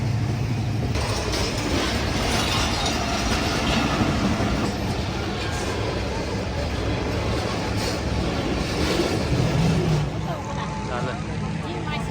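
A loud, steady rumble and clatter of a train passing close by a closed level crossing at Shorkot, Toba Tek Singh, continuous throughout, with faint voices underneath.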